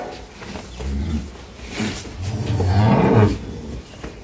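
Dairy cows of an improved breed on a farm in Dinajpur moo in a long, loud, drawn-out low bellow that swells and fades, with a shorter call just before it and no talk over them.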